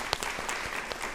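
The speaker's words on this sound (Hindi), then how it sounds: "एक बार इस टीम के लिए जोरदार तालियां।" A short burst of studio audience clapping for a police team, with distinct separate claps rather than a dense roar, heard close and fairly loud.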